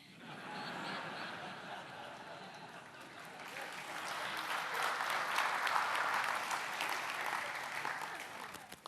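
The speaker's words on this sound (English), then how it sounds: "You shouldn't clap." An audience at a John Lennox talk in Perth claps, a steady patter that builds and swells in the middle before tapering, with some scattered laughter mixed in.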